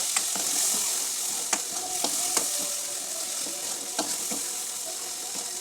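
Oil sizzles and crackles steadily in a pan while a spoon stirs red chili powder through thick masala for a brinjal curry, with a few sharp clicks of metal against the pan.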